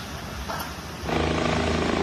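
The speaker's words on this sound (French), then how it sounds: "Les hélicoptères évacuent" A helicopter's rotor thumps and roars, growing louder and more pulsing partway through, heavy and fairly close, during a flood evacuation.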